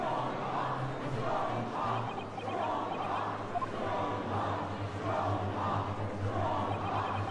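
A courtroom crowd in the video game The Great Ace Attorney 2: Resolve raises a loud, sustained clamor of cheering and hooting, pulsing in waves over a steady murmur.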